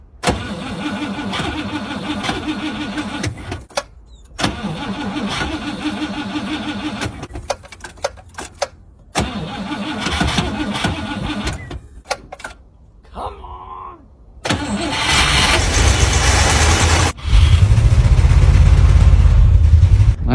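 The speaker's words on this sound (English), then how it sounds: "We're gonna try and cold start the Cadillac." A Cadillac cold-started at -20 degrees and 7,200 feet altitude: repeated loud cranking bursts separated by pauses, then the engine catches and settles into a steady, rough, loud idle.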